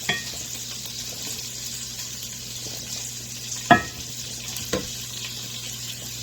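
Garlic and water simmer in a pan for a Jack Daniel's burger, giving a steady soft sizzle and bubbling broken by two brief clinks near the end, with no talking.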